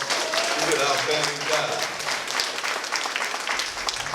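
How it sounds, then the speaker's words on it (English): An audience at a graduation ceremony applauds for a keynote speaker, a dense crowd clapping that swells and continues while someone speaks over it. "Can we give her another round of applause?"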